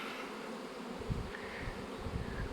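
Honeybees swarm around hives at an apiary in early April, a steady dense buzzing that fills the air without pause, close and continuous, with a few louder passes of single bees near the microphone.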